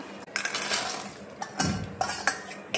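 Chicken pieces are stirred into oil for a homemade chicken pickle. A spoon clinks and scrapes against the vessel in a few distinct knocks amid wet mixing sounds, heard close and fairly quiet.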